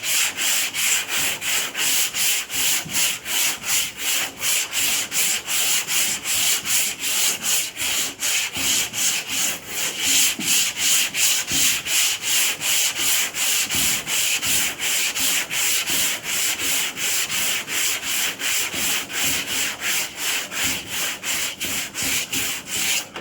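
Block sanding body putty on a car panel ahead of paint: a steady, loud rhythmic scrape of strokes back and forth, continuous for the whole stretch with no talking.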